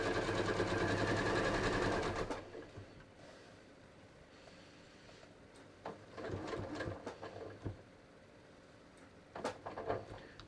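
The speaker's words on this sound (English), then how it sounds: "So let me just sew around." A sewing machine stitches around the lining of a floral embroidered zippered bag with a 1/4 inch seam, a loud steady run for about two seconds, followed by quieter handling noises and short bursts.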